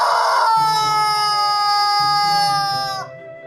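A rooster crows loudly in a children's radio drama about Noah's Ark, a long drawn-out strained call that tails off after about three seconds, with low clucking underneath from hens.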